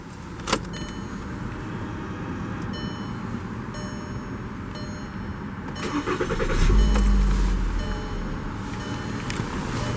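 A 2009 Volkswagen Jetta SportWagen 2.5 S engine cranks and catches around the middle, rumbling low for a moment before settling, with a brief click and clatter near the start.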